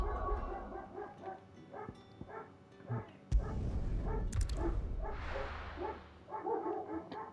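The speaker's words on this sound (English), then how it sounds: "Oh, noisy dogs." Several dogs bark at a cat at the edge of a yard, a run of sharp yips and barks in bursts with short gaps and some whimpering. The barking is fairly close and loud, with no talk over it.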